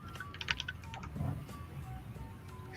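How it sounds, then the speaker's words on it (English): Rapid typing on a computer keyboard in a trading-stream setting, a quick flurry of close, faint clicks, clearest near the start, with no talk over it. "it might pick up some speed as fast as Anakin's typing"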